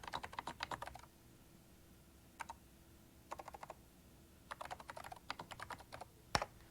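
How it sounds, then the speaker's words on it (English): Keys clatter on a NeXT computer keyboard in short, quiet bursts of quick clicks separated by pauses, with one sharper final tap; no voices. "and I can type."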